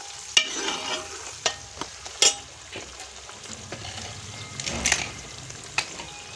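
Onions fry in ghee in a pan, giving a steady soft sizzle broken by occasional sharp clinks and scrapes of a stirring spoon.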